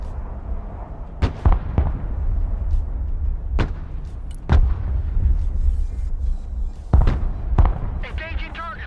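Several sharp booming blasts from an MLRS artillery fire mission in a video game, arriving in irregular bursts over a steady low rumble, with people talking throughout.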